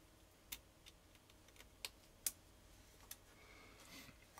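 A Rama M65-A keyboard with Zeal stems in Cherry switches is typed on in a few separate, crisp keystrokes spaced out over a quiet background, faint and close.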